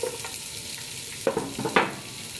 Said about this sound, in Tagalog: Lagyan natin ng sibuyas.